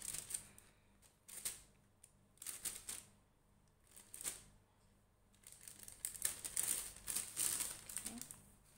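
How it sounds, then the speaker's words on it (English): Mashed, soupy banana is spooned into a thin plastic bag for a home DNA extraction, giving close, quiet bursts of plastic crinkling and rustling in irregular clusters, busier toward the end, with no talking. "So now I'm going to put this into this plastic bag here."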